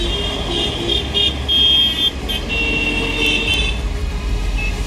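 Car horns honking amid dense Indian city traffic, overlapping sustained toots over a steady rumble of engines, loud and close throughout.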